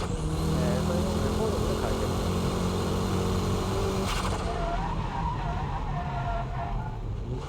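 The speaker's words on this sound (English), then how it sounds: "Braking drift is controlled by the braking power, your braking touch." A car brake-drifting on a wet track, with a loud, continuous engine drone and tire skid noise close by throughout, easing slightly after a sharp burst midway.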